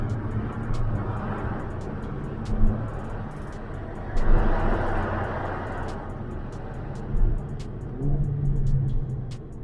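A 2017 Mercedes-AMG GLA 45 engine rumbles steadily with several surges as it accelerates on a freeway, accompanied by road and wind noise, fairly loud and close.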